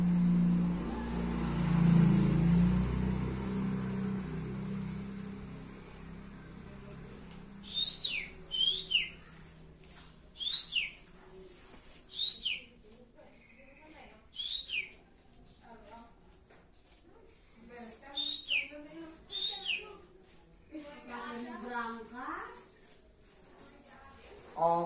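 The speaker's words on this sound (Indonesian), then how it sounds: "kali ini saya mau ngelatih burung kacer ini. Nih, kacer jinak, udah jinak." A tame oriental magpie-robin (kacer) perched on a hand gives repeated short whistled phrases and chirps, close and fairly loud, over a low rumbling background and handling noise.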